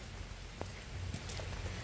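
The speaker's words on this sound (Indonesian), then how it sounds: "terlihat teman-teman ya hujan sudah mulai deras ya" Heavy rain falls steadily on chili plants in an outdoor field, a continuous broadband hiss with scattered brief drop impacts, no voices.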